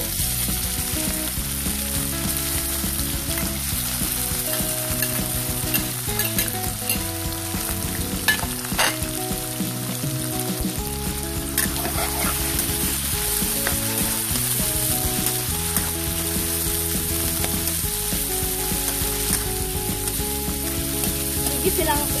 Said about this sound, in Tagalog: Igisa lang mabuti ang ating pork liver sa ating cooking oil.